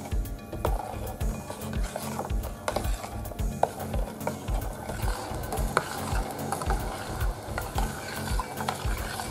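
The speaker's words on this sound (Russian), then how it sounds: "Помешиваем и ждем закипания." A pot of cocoa-flavoured groundbait porridge is stirred steadily on the stove, the spoon scraping and knocking in a quick repeated rhythm over a soft bubbling simmer, close and continuous with no talk.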